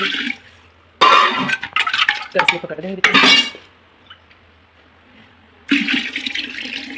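Cold water poured into curd to make lassi in a home kitchen: several loud bursts of splashing and clinking against the vessel, with short quiet pauses between pours.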